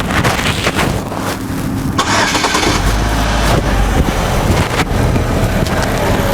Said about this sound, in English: let's go ahead and start this car up.